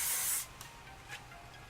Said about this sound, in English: Again, lift up and spray.